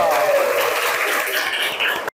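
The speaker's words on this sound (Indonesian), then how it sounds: "Tepuk tangan dulu" A classroom of students claps in a short, dense burst of applause that cuts off abruptly after about two seconds, with voices mixed in.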